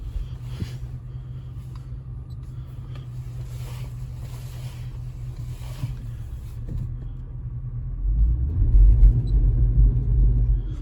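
Infiniti FX50 SUV on bald tires driving through a snow storm, a steady low engine and road rumble inside the cabin that swells louder toward the end, with no talking.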